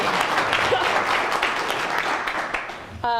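An audience gives Samantha a steady round of applause at a project management gathering at a resort. The clapping is dense and continuous, and a voice starts up right at the end.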